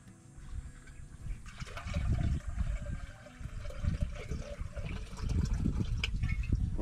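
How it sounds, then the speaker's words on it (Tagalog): Water is poured into a clay pot for boiling pasta outdoors on a farm, a close, uneven gurgling splash that rises and falls in bursts with no talking. "Lagyan po natin ng tubig."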